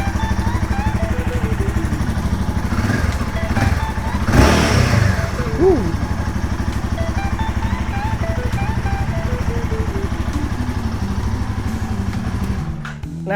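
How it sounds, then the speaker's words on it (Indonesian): A Royal Enfield Himalayan 450 motorcycle idles loudly up close with a rhythmic throb, is blipped through a couple of rising revs, then settles back to a steady idle; a voice briefly talks over it. "Sekarang kita mau dengerin gimana suara dari si Royal Enfield 450 Himalayan terbaru."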